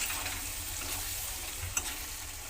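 Spice masala for a country chicken curry sautés in a pan with a soft, even sizzle throughout, broken by a single brief clink of the stirring utensil near the end.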